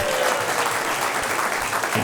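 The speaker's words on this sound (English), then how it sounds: "Give him a big round of applause for that." A comedy special audience breaks into a brief, dense burst of applause, steady clapping from many hands.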